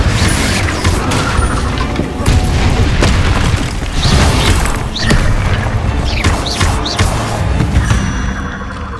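Confringo blasting spells exploding in Hogwarts Legacy, a dense run of loud booms, crashes and bursts layered over game effects and music, with no pause between impacts.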